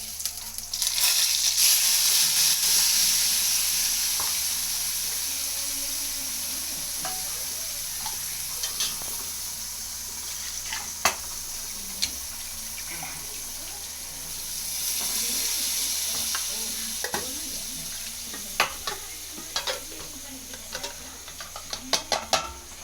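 Curry leaves frying in hot oil for tomato chutney, a dense hissing sizzle that is loudest at the start, swells again midway and fades, with scattered pops and clinks throughout.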